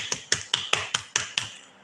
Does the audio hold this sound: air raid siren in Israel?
no